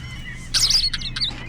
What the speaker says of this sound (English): Our mystery bird is a small thrush.